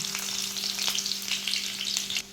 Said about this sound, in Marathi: थोडा लसूण टाकून घ्यायचं छान भरपूर लसूण चांगला परतून घ्यायचं